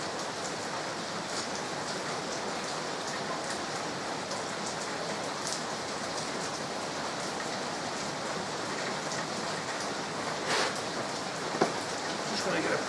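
Heavy torrential rain pours outside in a dense, steady hiss that fills the whole stretch, with no breaks and a few faint clatters near the end.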